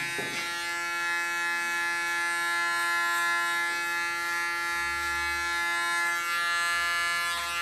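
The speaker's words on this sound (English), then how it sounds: "Even the sound of the clipper is wonderful." Electric hair clipper buzzing steadily with a strong tonal hum while trimming a neckline, close and continuous, with faint snipping hair noises.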